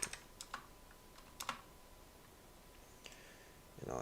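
Close, quiet keystrokes on a computer keyboard come in short irregular bursts of clicks separated by brief pauses, in a hushed room with no talking.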